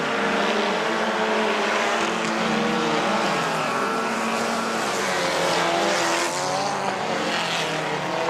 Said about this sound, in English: And they're away and racing.